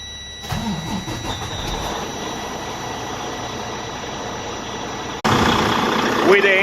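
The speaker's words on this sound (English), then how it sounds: "it is time to start the engine" A Freightliner Cascadia Evolution truck's engine cranks and fires, then settles into a steady diesel idle, with a sudden louder surge about five seconds in, heard close up.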